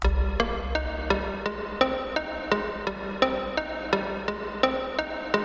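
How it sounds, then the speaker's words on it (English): Synth notes arpeggiated in a steady, even pulse in a chill pop style, each bright plucked tone starting sharply and repeating evenly; no voices. "Next, take those chords from earlier and arpeggiate them."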